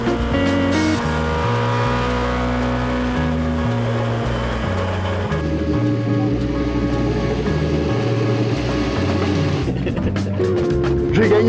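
Vintage race cars at the Gueux circuit near Reims, with a loud engine droning steadily as it shifts up and down through the gears, and a burst of acceleration near the end.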